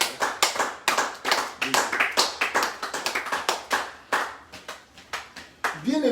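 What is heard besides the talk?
congregation applauding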